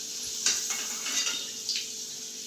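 Potatoes frying in oil in a pan for a Bengali chicken dish, a soft steady sizzle broken by a few metallic scrapes and clinks of a spatula stirring against the pan, close and fairly quiet.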